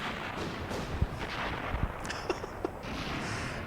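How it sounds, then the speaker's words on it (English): Explosion in the N64 video game Blast Corps, heard as a low, muffled rumble with several dull thuds spread over a steady background roar, fairly faint and with no voices. "Worst nuclear explosion ever."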